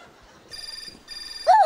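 A telephone rings in two short electronic bursts, fairly close and clear against a quiet room, followed by a brief vocal exclamation.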